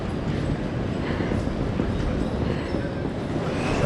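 Broad rumbling noise fills Hamburg Hauptbahnhof train station, a constant loud wash of rail and crowd ambience with no distinct events.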